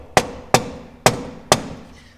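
Four sharp hammer taps on a clamp on a Western Star truck's power steering reservoir, evenly spaced about half a second apart, close and loud, each ringing briefly before fading.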